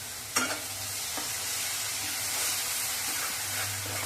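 Onion, garlic and ginger paste sautéing in a pan for dum aloo, a steady close sizzle and hiss with a sharp clink of stirring near the start and light scraping throughout.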